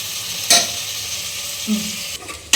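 Mushrooms fry in a pan for mushroom biryani with a constant close sizzle, broken by a few sharp scrapes and clinks of a spoon against the pan.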